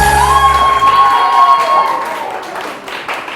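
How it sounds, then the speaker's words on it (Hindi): Studio audience on a Pakistani morning TV show clapping loudly, a broad wash of applause with some cheering, rising as a held musical tone and low hum fade out beneath it. "मजा नहीं आ रहा, तालियां जोर से।"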